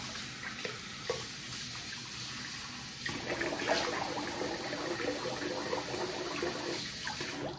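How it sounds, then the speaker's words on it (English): Running tap water splashing while a face is rinsed after a shave, a continuous close hiss with irregular splashes and hand sounds, no talking. "I'm gonna rinse the face here."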